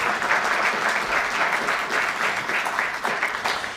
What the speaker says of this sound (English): let's give another round of applause for all of that work